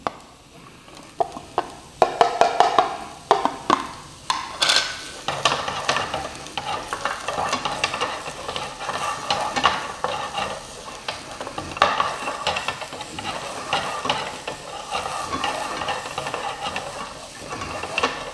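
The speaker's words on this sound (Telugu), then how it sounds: "వేసుకొని ఫ్రై చేసుకోండి. తర్వాత ఆనియన్ మిర్చి వేసుకోండి" Chopped onion and green chillies sizzle in oil in a pan while a spoon stirs them, with clanking scrapes early on and a steady close frying hiss throughout.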